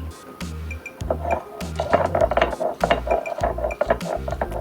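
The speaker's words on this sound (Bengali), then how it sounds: "এবার এটাকে বাটা হবে।" Ghetkol leaves with garlic and chillies are ground on a traditional stone slab. Close, rhythmic scraping and knocking strokes repeat about once a second, and a low thud marks each pass of the grinding stone.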